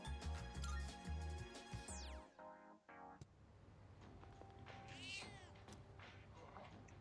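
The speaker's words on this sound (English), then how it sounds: "This cat looks very weak. It seems like it might be hungry." A cat meowing in the video game Persona 3 Reload, a couple of plaintive meows heard faintly over game music and sound effects that shift partway through.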